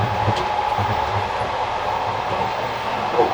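Steady rumbling train noise from a Soviet-era sleeper train, a continuous loud roar of rolling wheels and rattling with faint clanks, as heard from inside between moving carriages.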